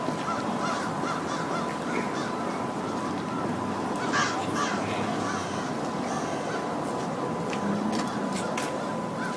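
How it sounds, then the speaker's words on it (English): Large flock of crows cawing all at once, a dense overlapping chorus of harsh calls that fills the air steadily and loudly, with no talking. "Check out all the freaking crows."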